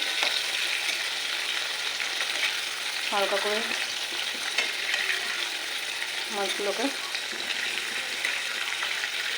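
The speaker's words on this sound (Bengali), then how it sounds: "তেলটা গরম হয়ে গেছে, চিংড়ি মাছগুলো ভাজতে বসিয়ে দিয়েছি।" Prawns fry in hot oil for a Bengali chingri malai curry, giving a steady, close sizzle throughout as a voice speaks briefly over it twice.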